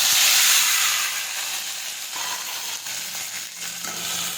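Gunda (cordia fruit) sautéing in hot oil with mustard seeds, cumin and asafoetida: a steady, close, bright sizzle and hiss with faint stirring scrapes throughout.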